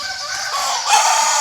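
A rooster crows at dawn in a Thai village, a bright, sustained call that rises and swells in the second half, heard alone with steady rural ambience and no talk.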